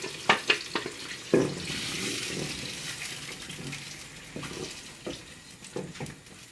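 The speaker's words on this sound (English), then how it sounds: "I'm going to throw in my blended tomatoes, garlic, onion, ginger, and the red pepper, all in one go." A blended mix of tomatoes, garlic, onion, ginger and red pepper hits a hot pan for a Ghanaian egg stew, giving a loud hissing sizzle broken by a few sharp spatters and stirring scrapes, then settling to a steady fry.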